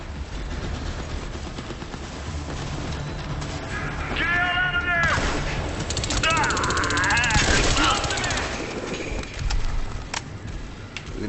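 Rapid turret machine gun fire in Crysis 3, a sustained automatic burst mixed with other game battle noise and someone talking over it throughout.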